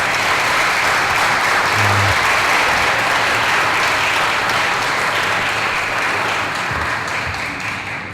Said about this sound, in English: let us give our panelists again another round of applause